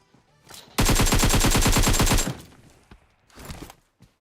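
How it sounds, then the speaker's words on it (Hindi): A rapid burst of automatic gunfire rings out in a PUBG match, about a dozen evenly spaced shots lasting over a second, loud and sharp, followed by a couple of shorter, fainter shots. "अब यहाँ पे कोई दूर से कोई तो गन चला रहा है।"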